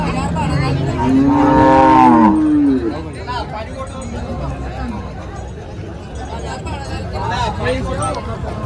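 A cow lets out a long, loud moo close by, amid a busy crowd of chattering voices and bustle at a cattle market of Holstein Friesian cows.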